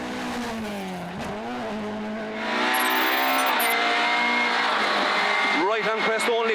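Inside Gary Kernan's Ford Escort rally car at the 2017 Galway International Rally, the engine roars and its pitch swings up and down through gear changes and bends, loud and constant, with a voice calling over it.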